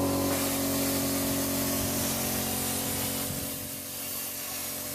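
A plasma cutter slices through metal in a home workshop, a steady hissing, spraying rush with faint crackle underneath, close and fairly quiet, easing slightly toward the end.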